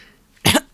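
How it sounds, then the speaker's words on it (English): A single person clears their throat in two short, rough bursts, a longer rasp followed by a brief second hack, loud and close against near silence. "let me just clear my throat"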